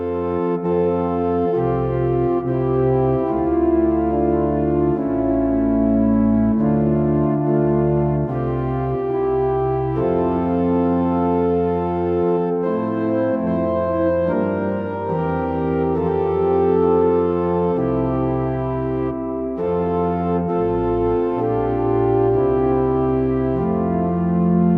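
Pipe organ plays a chorale prelude on a hymn tune, a sustained, full chordal texture moving through slow steady harmonic changes, continuous and loud with no talking.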